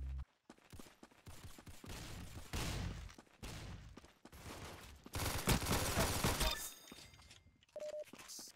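Rapid gunfire in the Arsenal video game, bursts of sharp cracking shots and machine-gun rattles separated by short gaps, loud and close, with thumps and clinks between volleys.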